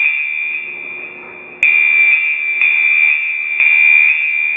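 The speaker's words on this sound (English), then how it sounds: "as you will hear the sounds coming from the horn strobe" A fire alarm horn strobe sounds after a smoke detector triggers: a loud, shrill continuous tone that steps louder in regular pulses about once a second, heard alone.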